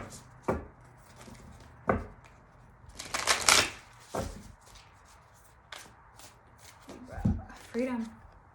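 Tarot cards shuffled by hand in a series of sharp riffling bursts and soft slaps, close and fairly quiet, with a brief voice near the end.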